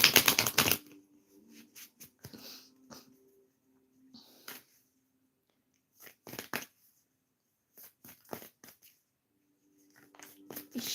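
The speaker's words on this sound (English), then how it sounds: "Let's shuffle some cards for Margaret." Several short bursts of riffling tarot cards, crisp flutters separated by quiet pauses, close to the microphone.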